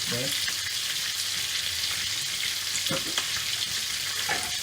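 Sirloin steak searing in a frying pan, a loud, steady close-up sizzle with a few brief clicks of the pan or utensil.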